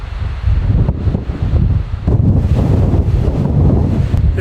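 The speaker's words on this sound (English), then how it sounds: "now the wind is just getting super windy" Strong wind at Great Sand Dunes National Park, Colorado, buffets the microphone in loud, rumbling gusts that roar continuously throughout.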